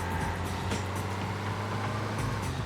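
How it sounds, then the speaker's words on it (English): Slow bus engine droning steadily as it drives in the PS2 racing game Burnout, a low constant hum with faint rattling, alone without talk. "It actually sounds like a bus though."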